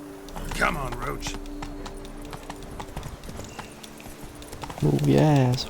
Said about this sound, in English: Move your ass, horse.